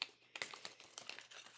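Small plastic bags holding metal craft dies crinkle faintly and closely in a short burst of soft rustles and crackles, with no talking.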